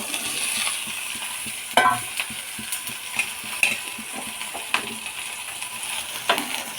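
Green chillies, tamarind and cumin fry in a pan for coconut chutney, a steady close sizzle broken by the scrape and clink of stirring at irregular intervals, with no one talking.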